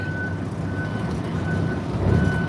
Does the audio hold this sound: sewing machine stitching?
no